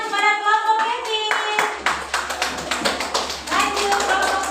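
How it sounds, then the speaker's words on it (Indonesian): Classroom applause, a group of students clapping in a steady burst of close, dense hand claps, with voices heard at the start and again as the clapping fades. "Berikan tepuk tangan kepada kelompok Kevin."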